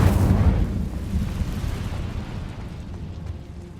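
Incendio fire spell cast in Hogwarts Legacy: a loud, rumbling burst of flame opens the moment, then fades into a long, roaring whoosh of fire.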